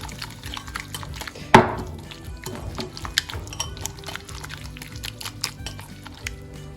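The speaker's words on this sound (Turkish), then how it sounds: "Şöyle güzelce çırpıyorum." Potato pancake batter with grated potato and whole wheat flour whisked in a bowl for a baby's breakfast, a close wet scraping and clinking rhythm with one sharp knock near the start, no talking.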